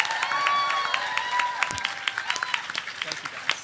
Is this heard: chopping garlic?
no